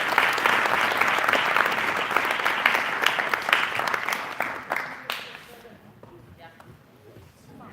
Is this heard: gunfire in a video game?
no